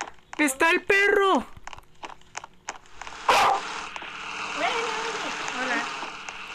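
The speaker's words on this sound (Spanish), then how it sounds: "¡Está el perro!" Dog barking in the Roblox Piggy video game, a few sharp barks near the start, then game sounds and excited children's voices speaking Spanish over a loud scuffing burst and ongoing background noise.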